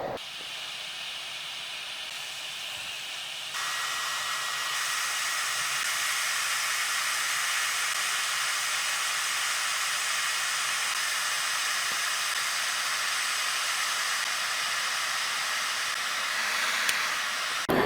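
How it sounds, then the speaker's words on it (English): A steady, loud hiss of boiling water and steam runs continuously, drawing 3,500 watts from an inverter, rising slightly in intensity after a few seconds, with no voices. "It's been over 5 minutes and my water is boiling."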